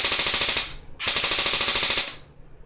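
Javelin M4 CQB-R electric blowback airsoft rifle firing full-auto in two bursts, each a rapid mechanical rattle of shots with the bolt cycling, close and loud, a brief pause between them.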